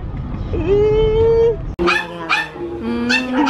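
A dog whines in a long high whimper, then lets out several yips and short barks, close and loud.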